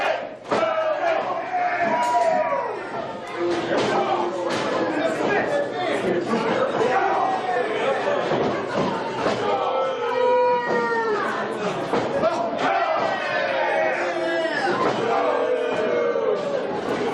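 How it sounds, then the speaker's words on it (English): A match crowd cheers, chatters and shouts loudly and continuously, with voices rising in waves and several excited yells breaking through. "The crowd letting their opinions be known"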